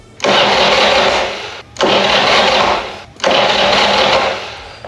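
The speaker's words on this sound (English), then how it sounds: "Let's try this starter and see if it'll engage and turn the motor over." Three long starter cranks on a 1985 Harley-Davidson Ironhead motorcycle engine, each a loud, steady whirring grind of about a second and a half, separated by short pauses, close up and with no talk.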